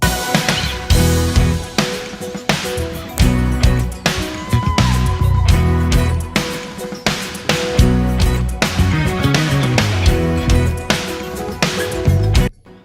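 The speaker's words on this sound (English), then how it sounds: "I'm using samples on the snare and it sounds like this." A dense full-band music mix with a sampled snare drum cracking on regular beats alongside kick, bass and other instruments, loud and steady throughout with no talking.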